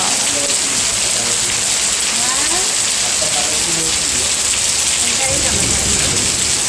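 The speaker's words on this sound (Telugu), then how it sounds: "వర్షం వస్తుంది." Steady rain falls with a dense, constant hiss on surfaces, with faint talk in the background.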